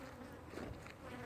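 Honey bees buzz around an aggressive hive while new queens are checked, a faint, continuous droning hum with no pauses.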